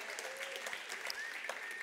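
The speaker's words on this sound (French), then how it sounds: "vous pouvez m'applaudir" Applause from an audience greeting a joke about a six-year marriage, a quiet, steady patter of clapping at low level with a faint murmur, no clear voice over it.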